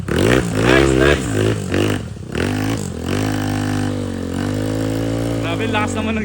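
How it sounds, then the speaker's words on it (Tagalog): A Yamaha Mio scooter engine revs hard at a trail site, rising and falling through several loud throttle blips before settling into a steady high drone. "Grabe, lakas naman ng scooter na yan."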